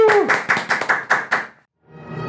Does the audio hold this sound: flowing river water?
no